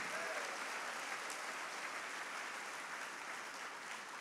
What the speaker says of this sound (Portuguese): Vamos aplaudir esse Deus maravilhoso.